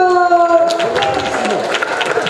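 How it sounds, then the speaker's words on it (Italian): Applause at a year-end award ceremony, a steady crowd clapping that grows and thickens after a moment, under a lingering sustained tone that fades as the hands take over. "Applauso!"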